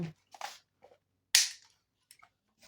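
Kel-Tec Sub 2000 Gen 2 9mm rifle being cleared, a series of close, sharp mechanical clicks and clacks, with one loud snap of the action mid-way amid quieter handling noises and silence.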